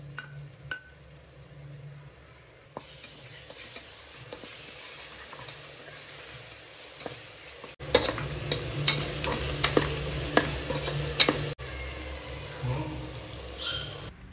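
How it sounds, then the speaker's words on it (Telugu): Onion pieces fry with ginger garlic paste in a pan for mutton kheema curry, giving a steady sizzle broken by scraping stirs and the odd clink of the spatula. "ఇలా ఆనియన్ ముక్కలు కుక్ అయిన తర్వాత అల్లం వెల్లుల్లి పేస్ట్ కూడా యాడ్ చేసి పచ్చివాసన పోయేంత వరకు వేగనివ్వాలి."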